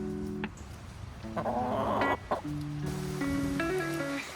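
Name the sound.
chickens clucking in a backyard coop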